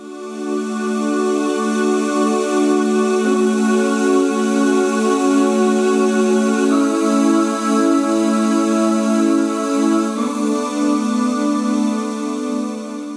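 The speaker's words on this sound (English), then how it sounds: "I've got some vocal oohs that are in here" A sustained synth pad of soft vocal "ooh" tones holds steady chords, shifting smoothly at two points, with no talking.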